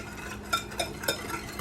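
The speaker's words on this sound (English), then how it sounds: "Then what we're going to do is whisk this together." A utensil briskly whisks a sesame oil marinade for Hawaiian steak in a bowl, giving a few light clicks and swishes at close range over a faint steady background hum.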